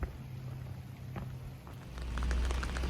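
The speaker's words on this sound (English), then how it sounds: "And rain." Steady misty rain in Positano patters in a dense wash, with scattered drops hitting nearby surfaces; the hiss swells slightly louder toward the end, with no voices.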